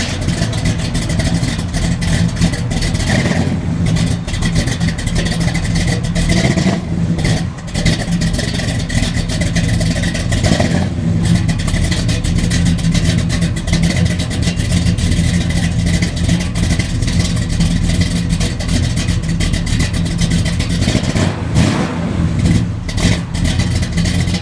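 A 1968 Chevrolet El Camino's engine drones loud and steady while driving, a thick continuous rumble with occasional swells in revs throughout.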